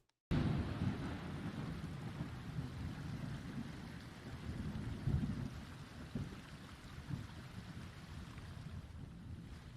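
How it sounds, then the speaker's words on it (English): Thunder in Pantheon: Rise of the Fallen rolls as a long, low rumble over steady rain and wind, swelling and fading across the stretch without any talk. "First of all, loving the lightning and thunder."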